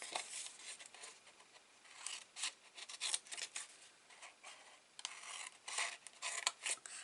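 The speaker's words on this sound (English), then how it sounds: "So this time I'm going to cut up the score lines." Scissors cut through card along its score lines while making mini treat cups, producing quiet, repeated snipping and rubbing strokes in a steady rhythm with no voices.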